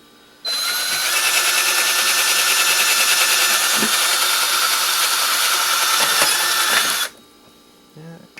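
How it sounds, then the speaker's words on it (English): A power drill bores through an electronics casing being scrapped, a loud, steady high whine that starts abruptly, holds for about six seconds, and cuts off, with faint voices before and after. "So pretty much have to drill through."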